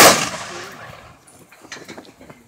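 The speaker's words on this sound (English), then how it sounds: "Ready, aim, fire." A rifle volley fired as a memorial salute: one loud, sharp crack at the start that rolls off into a fading echo, followed by quieter shuffling and clatter.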